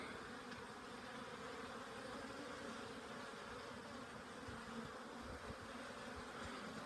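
Honey bees hum in a constant dense drone during an April hive inspection, many insects buzzing together close by, faint overall and without pauses.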